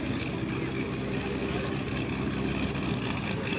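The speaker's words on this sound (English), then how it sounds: "if you care to look to the right, extremely high, you'll see a helicopter in the hover" A helicopter hovering very high overhead at the ILA 2010 Berlin air show, carrying a parachute team, heard as a continuous distant drone that fills the whole stretch at even loudness.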